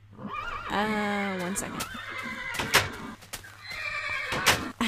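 A horse in Minecraft neighs with a long, loud whinny near the start, followed by shorter horse snorts and game noises while a person speaks briefly.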